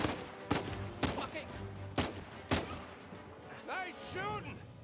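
Gunfire in the Uncharted video game: four heavy, evenly spaced shots roughly half a second apart ring out over background game sound, followed by whooshing, ricochet-like sweeps.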